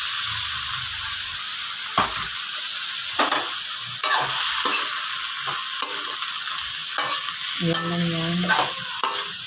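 Cauliflower stir-fries with oyster sauce in a hot pan, giving off a steady sizzle and hiss broken by scraping stirring strokes at irregular intervals, close and fairly loud, as a voice speaks briefly.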